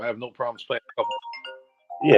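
A mobile phone ringtone chimes in during a sports chat, a short bright tone rising at the end after a man's speech, partly overlapping the talk.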